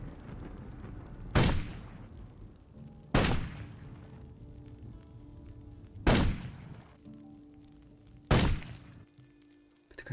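Cannon and gunfire in the video game Risen 2: four heavy booming shots spaced about two seconds apart, each with a sharp attack and a rumbling decay, over a quiet game background.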